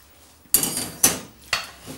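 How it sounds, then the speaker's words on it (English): A metal pan of kedgeree rice is being upended and handled, giving three sharp clanking knocks about half a second apart, each ringing briefly before fading, fairly close and with no talking. "Because now all I'm going to do is upend the whole of this rice pan."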